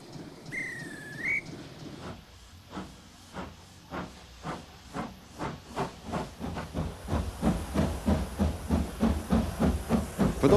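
A preserved steam locomotive at Bridgnorth Station on an English heritage railway chuffs in a steady rhythm that quickens and grows louder, with hissing steam and a short whistle at the start.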